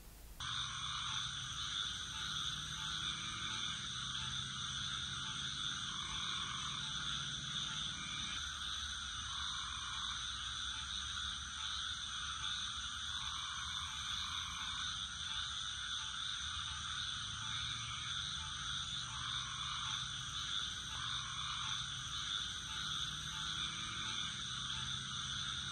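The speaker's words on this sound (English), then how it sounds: "Let's kick back and listen to the crickets and the frogs." Crickets and frogs call at a pond on a full-moon night, a steady, unbroken chorus of high trilling with softer low croaks, even and continuous throughout.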